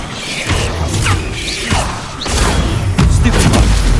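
Incendio fire spell cast in Hogwarts Legacy, a series of loud whooshing bursts and crashing impacts amid busy, continuous game combat noise.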